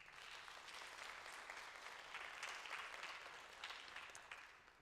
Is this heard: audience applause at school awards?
yes